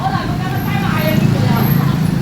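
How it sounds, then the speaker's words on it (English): Loud roadside traffic and busy chatter at a Saigon vegan street food stall with metal tables and plastic chairs, a dense steady roar of engines and overlapping voices throughout. "Traffic's loud, talking's loud."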